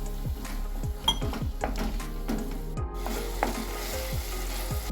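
Chilli paneer sauce thickened with cornflour sizzles in a pan, a steady frying crackle broken by repeated scraping and clinking strokes of a spoon stirring against the metal.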